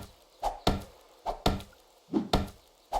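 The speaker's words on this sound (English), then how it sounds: "Just remember to step back from trees as you chop them down." A stone axe strikes a tree in the survival game 7 Days to Die: six sharp, woody chops in an uneven rhythm over about three seconds, close and fairly quiet, each with a short splintering decay.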